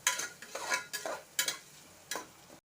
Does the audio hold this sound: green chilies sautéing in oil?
yes